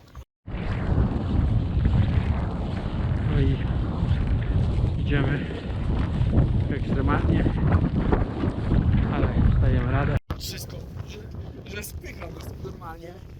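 Fierce wind sweeps across a snowy mountain slope with deep drifts at Śnieżne Kotły, roaring hard against the microphone almost without pause, with voices partly buried beneath it and a brief dropout near the end.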